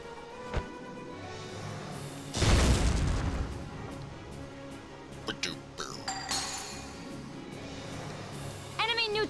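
A grenade goes off in Valkyria Chronicles with one heavy, booming blast followed by rattling debris, clinks and scattered pops. Game voices and other battle sounds continue around it.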